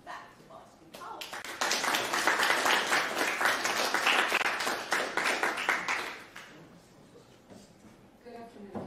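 A lecture audience at Boston College applauds to welcome the speaker: a few scattered claps build to dense, steady applause for several seconds, then thin out to isolated claps as the room settles.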